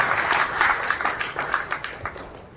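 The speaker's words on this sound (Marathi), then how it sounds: "टाळी वाजवण्यास टाळा करू नका, जोरात करा" Devotees at a pilgrimage gathering for the Pandharpur wari clap their hands, a dense burst of crowd applause that stays strong and then thins toward the end.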